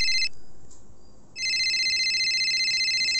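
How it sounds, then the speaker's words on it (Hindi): A loud electronic phone ringtone trills steadily, pauses for about a second, then resumes at full volume. "अभी किसका फोन आ गया?"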